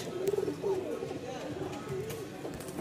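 Giribaz pigeons coo in soft, rolling bursts, repeating several times at moderate distance under steady background noise and people talking.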